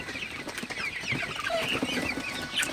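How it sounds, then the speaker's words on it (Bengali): Sonali super hybrid chickens cluck continuously at night while eating corn, a dense close flock chatter of overlapping clucks and soft calls with no talking. "মুরগিগুলো আসলে পাগল হয়ে গেছে ভুট্টা দিলে আসলে খুবই ভালোভাবে ভুট্টাগুলো খায়"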